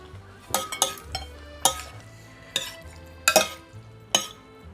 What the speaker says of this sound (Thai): ต้องคนๆหน่อย